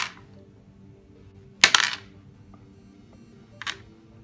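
Dice clatter and tumble across a tabletop during a Deadzone tabletop wargame, one loud rattling roll near the middle followed by a shorter, fainter roll near the end, in a quiet room.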